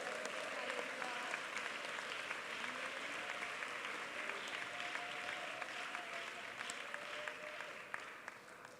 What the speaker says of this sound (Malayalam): കൈയടിച്ചൊരു സ്തോത്രം വേണമെങ്കിൽ പറയാം.